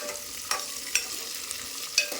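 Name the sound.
green chillies frying in a pan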